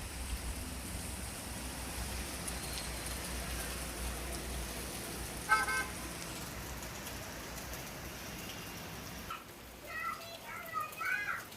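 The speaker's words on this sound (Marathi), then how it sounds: "बघा किती मस्त पाऊस पडतोय इकडे" Monsoon rain falling steadily outside a home, a soft continuous hiss in the background, with a brief clatter partway through and children's voices chattering near the end.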